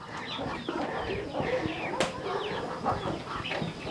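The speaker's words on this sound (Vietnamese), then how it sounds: "gà bé vào nhà hết rồi đây này" Chicks that have wandered indoors into a house cheep and cluck in a busy chatter, with light flapping or scuffling and a voice talking faintly in the background.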